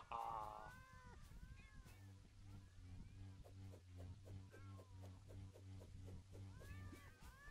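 A cat meows in short bursts, then a steady low hum with a repeating rhythmic pattern carries on beneath further faint meows and chirpy sounds.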